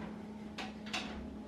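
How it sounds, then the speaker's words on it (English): Two quick, faint knocks of a kitchen oven door swinging shut, close together over a low steady hum, with no voices. "Close the oven door,"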